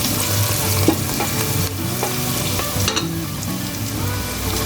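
Softened fried onions with chili powder stirred in a hot pan, a loud close sizzle broken by spoon scrapes and clinks against the metal, no voices.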